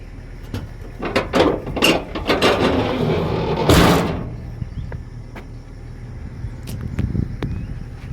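The engine cover of an Exa 200 excavator is swung shut: a series of metallic clanks and creaks builds to a loud slam, followed by quieter scattered knocks against steady outdoor background noise.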